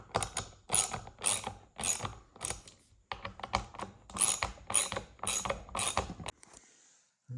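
A ratchet clicks in rapid, close bursts while bolts on a Porsche 996/986 steering wheel are torqued down, about eight rhythmic strokes of whirring pawl clicks before it stops.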